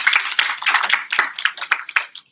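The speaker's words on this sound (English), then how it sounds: "If we can give them a round of applause." Audience at a panel event on women, work and migration clapping, a short burst of individual claps that sound fairly close, uneven and sparse rather than a full roaring ovation, fading out at the end.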